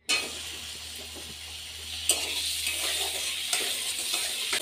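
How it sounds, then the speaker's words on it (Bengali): Tomatoes fry in hot butter in a wok with a soft, steady sizzle that continues throughout. Occasional clinks and scrapes of a utensil against the pan break through the sizzle. "বাটারটা কিন্তু বেশ ভালো করে গরম করে নেওয়ার পর আমি কিন্তু কড়াইয়ের মধ্যে টমেটো দিয়ে দিই"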